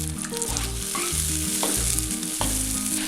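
Chicken 65 sauce with a quarter cup of added water starting to boil in a pan, giving a steady close sizzle and frying crackle with bubbling throughout, no voices.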